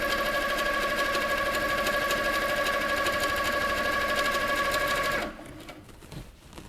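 A Handi Quilter Sweet Sixteen sewing machine runs quilting stitches in a steady, loud, close mechanical whir with a fast rhythmic chatter, then stops abruptly near the end, leaving faint handling noise.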